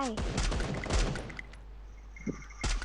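Gunfire in the mobile battle-royale game Free Fire: rapid bursts of shots crackle under a player's talk, then fade to quieter game ambience before another short burst at the end.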